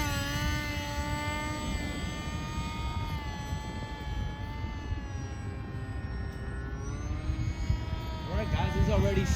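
A radio-controlled Flite Test F-22 model plane flies overhead, its electric motor giving a steady whining buzz with shifting pitch as it passes, loud throughout, ending in a rising tone.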